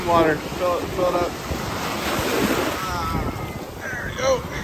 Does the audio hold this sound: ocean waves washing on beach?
yes